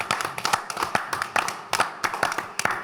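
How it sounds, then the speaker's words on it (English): A small group behind the scenes at a FANUC CNC event in Stuttgart claps for the production team, a few people beating out sharp, fairly regular claps in loose bursts, close and moderately loud. "So we'll give everybody a clap."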